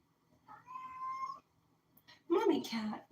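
A cat meows indoors, one drawn-out tonal call followed after a pause by a louder, rougher meow, both close and clear against a quiet room.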